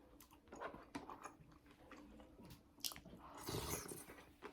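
Tteokbokki is eaten with a spoon at close range, with soft, quiet squishy chewing and small mouth and utensil sounds scattered through a hushed room.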